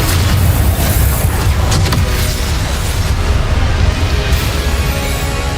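Confringo blasting spells in Hogwarts Legacy roar as loud, dense explosive booms, an unbroken wall of blast and rumble with no voices.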